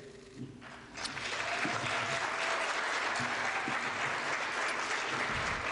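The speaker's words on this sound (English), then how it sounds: "I'd ask you to hold your applause for the remainder of the evening" A mayoral debate audience in Fall River breaks into applause after a candidate's closing remarks; after a quieter opening moment, sustained steady clapping swells in and continues evenly.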